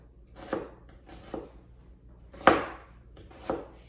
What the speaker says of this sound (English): All right, so we're gonna go ahead and start chopping this up.